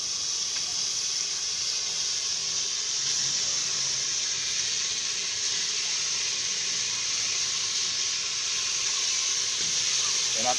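Chicken back frying in oil in a pot gives a loud, continuous bright sizzle and hiss that holds steady from start to finish, with no break.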